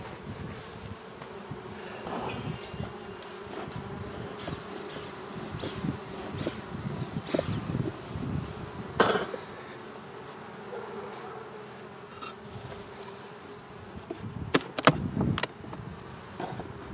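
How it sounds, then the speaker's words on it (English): Honeybees buzzing loudly and continuously at close range as they are taken out of an opened hive, with handling knocks and rustles breaking in now and then. "demonstrate getting bees out of the hive, getting them into a jar"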